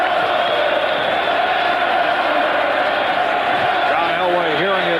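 Stadium crowd at a 1992 Broncos vs. Eagles NFL game jeering Broncos quarterback John Elway, a steady loud roar of massed voices filling the whole stretch, with a few louder bellowing shouts rising near the end.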